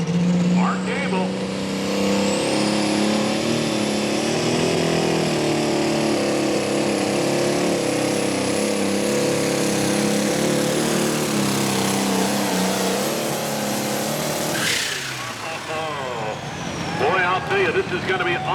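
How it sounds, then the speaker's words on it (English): A tractor pull alcohol engine fires back up and runs hard, a loud sustained roar with a high whine, then cuts sharply near the end while an announcer talks over it at an outdoor pull in Langford, New York. "Engine fired back up, and he's ready to go to work here"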